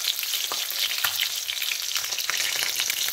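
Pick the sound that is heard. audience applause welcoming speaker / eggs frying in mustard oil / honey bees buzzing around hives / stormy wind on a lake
eggs frying in mustard oil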